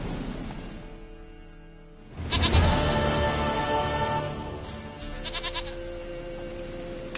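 A goat in The Witcher video game lets out drawn-out bleats, loud and close, rising after a quieter stretch with in-game ambience.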